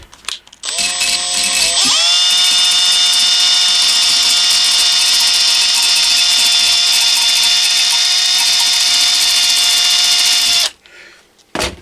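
A handheld power tool spins a nut down a long threaded rod while building a 4G antenna, a loud steady whine that rises briefly in pitch as it spins up, holds for about nine seconds, then stops.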